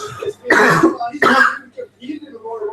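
Two loud, close coughs in quick succession, surrounded by murmuring voices and background noise while watching WWE Royal Rumble 2016.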